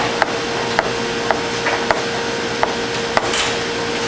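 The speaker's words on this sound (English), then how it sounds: "we're going to cut roughly 1/2 to 3/4 inch pieces" A knife cuts gnocchi dough into pieces on a board, six or seven evenly spaced crisp taps close up, with no talk.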